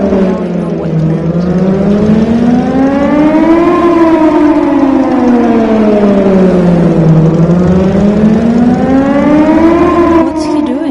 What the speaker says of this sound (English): I heard this siren from my apartment in Bright City every once in a while.